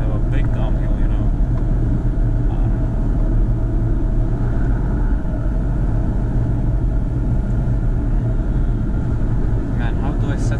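A Scania G440 truck pulling a trailer drives downhill, its deep engine and road rumble steady and loud throughout, with a voice talking over the drone.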